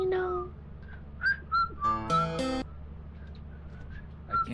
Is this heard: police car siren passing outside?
no